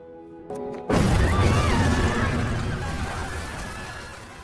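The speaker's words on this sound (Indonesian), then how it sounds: "sudah menggenggam secuil granat di tangannya yang membuat mereka berdua meledak" A sudden loud grenade blast erupts after a brief quiet moment, followed by a long rumbling, debris-filled roar that slowly fades.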